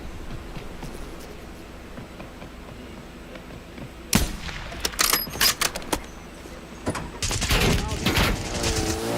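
Video game gunfire erupting midway as sharp, loud, rapid cracks and bursts after a stretch of quieter background, with a voice calling out in the last seconds.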